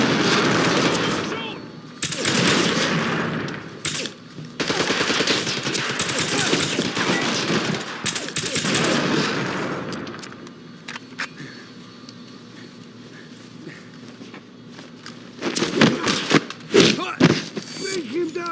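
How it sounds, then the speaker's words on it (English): Video game gunfire in James Bond 007 Blood Stone comes as loud, sustained bursts of shooting that fade into scattered shots and clatter, with voices calling over the fight. "We have to keep firing!"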